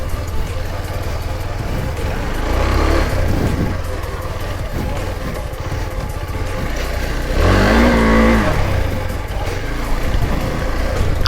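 A dirt bike ridden through Pokhara traffic revs loudly up close, its engine surging and falling in two strong accelerating bursts over a continuous rumble, with riders' voices mixed in.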